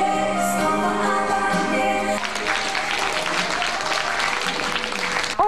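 An audience applauds warmly after a young girl's a cappella song at a concert premiere: a dense, loud burst of clapping rises after a short stretch of music and carries on steadily to the end.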